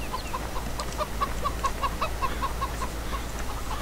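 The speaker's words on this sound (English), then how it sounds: "Your chickens are over here, so fully working eggs." Chickens clucking in the farming video game Farming Simulator 17, a run of quick, evenly spaced clucks close by over a steady low background hum.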